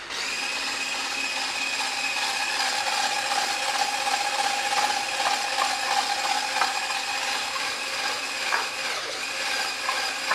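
A sweetened mango brulee mixture is whisked with a continuous whirring sound that stays steady and fairly soft throughout, with no talking.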